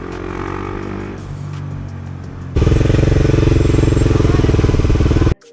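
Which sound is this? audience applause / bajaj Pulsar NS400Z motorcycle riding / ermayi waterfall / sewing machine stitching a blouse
bajaj Pulsar NS400Z motorcycle riding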